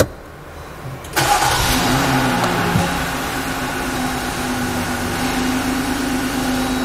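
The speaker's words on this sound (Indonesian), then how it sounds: "maka kita akan starting mobilnya." A 2022 Jeep Gladiator Rubicon V6 cranks briefly and catches, its engine flaring up loud and close before settling into a steady, even idle with a low hum.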